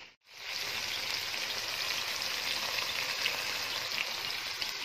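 Okra and green chillies fry in a pan with a continuous, even sizzle, close and fairly quiet, with no stirring and no voices over it.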